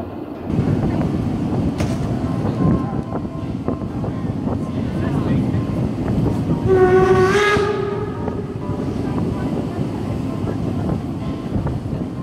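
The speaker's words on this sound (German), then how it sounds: "eine Tagestour mit dem Roland zu machen und die Seebäder Binz und Gören per Bahn abzuklappern" Train ride toward the seaside resorts of Binz and Göhren on Rügen, with a steady rumble of wheels on rails and a loud horn blast sounding midway.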